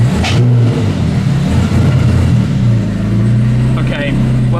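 A Zenvo TSR-S supercar engine of about 1200 horsepower is revved, heard from outside: a loud, deep, sustained idle-to-rev drone with throaty rumble, a short sharp burst near the start and another near the end.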